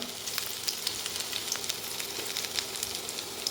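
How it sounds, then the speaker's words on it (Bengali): Chopped garlic hits hot oil and sizzles steadily up close, with sharp little pops and crackles scattered through the constant frying hiss and no voices. "তেলের মধ্যে এক এক করে রসুন কুচানো দিয়ে দিলাম"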